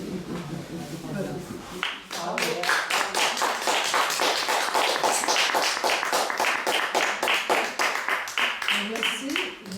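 Audience at a stand-up comedy show breaking into applause, a dense burst of clapping that swells and holds loudly, following a moment of a performer's voice.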